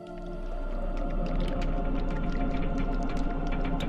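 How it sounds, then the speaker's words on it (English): Thick bubbling tar gurgles and squelches in a deep, viscous churn, a low sustained rumble scattered with wet popping bursts, steady and close. "like thick bubbling tar coming from behind her"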